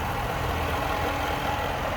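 Supercharged engine of a 2014 Range Rover idling smoothly, a steady low rumble with a faint hiss, close and even throughout.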